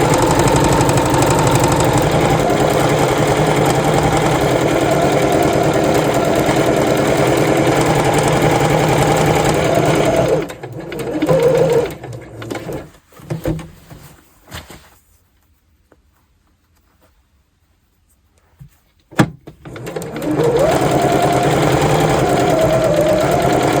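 A sewing machine stitching around a skirt, a loud steady mechanical whir running for about ten seconds, then stuttering in short bursts, falling silent, and starting up again at the end.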